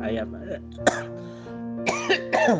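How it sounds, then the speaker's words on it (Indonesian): A man coughs and clears his throat in short bursts between stretches of his own speech, close and clear. "aduh batuk nih"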